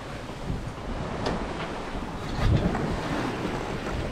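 A sailboat runs wing-on-wing with the genoa to port and the main to starboard, and waves wash and splash around the hull under a steady rush of wind buffeting the microphone, with a stronger surge midway.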